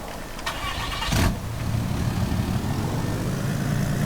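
A Cummins 3500 pickup truck engine cranks over with a short burst and catches, then settles into a steady low rumbling idle heard up close.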